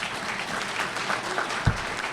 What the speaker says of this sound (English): We've already applauded her